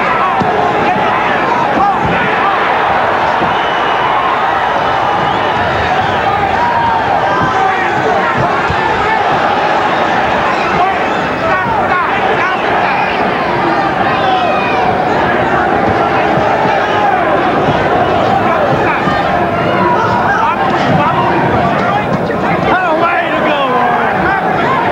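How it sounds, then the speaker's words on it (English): Dense, steady roar of a boxing crowd cheering as Frankie Warren throws a relentless two-handed punching attack against Buddy McGirt, continuous and loud for the whole stretch, with faint ringside noise underneath. "the crowd responding to the buzzsaw attack"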